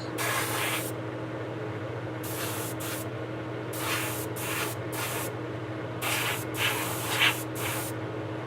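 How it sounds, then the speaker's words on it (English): Paint spray gun on low pressure hissing in repeated short bursts, painting tight areas of a model locomotive, close and steady over a constant low motor hum from a compressor. "So keep it on a low pressure, and you can get some of those tight areas."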